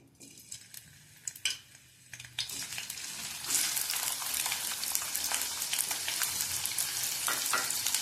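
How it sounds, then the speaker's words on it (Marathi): Onion sizzles in hot oil in a kadhai for an egg bhurji curry: quiet clinks at first, then a steady, close crackling hiss that builds and holds. "आता तेल चांगलं गरम झाले, ह्यात आधी आपण कांदा टाकून भाजून घेऊया।"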